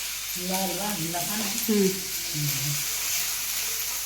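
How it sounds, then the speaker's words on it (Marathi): Onion sautéed in a pan for a village-style moong dal amti, a continuous frying sizzle beneath a voice talking. "कांदा मी चांगला परतून घ्या ना"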